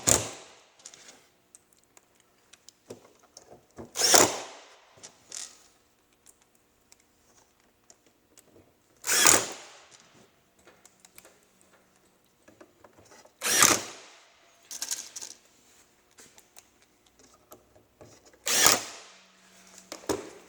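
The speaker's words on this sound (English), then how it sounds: "When you're running the screws into the holes, there's different options for holes." A cordless drill driving screws into drawer guides, four separate short whirring bursts spaced several seconds apart, with quiet handling clicks and rattles in between.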